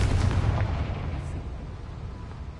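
Confringo blasting spell exploding in Hogwarts Legacy: a single loud, booming burst that fades over about two seconds, with no talking.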